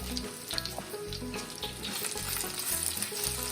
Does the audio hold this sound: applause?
no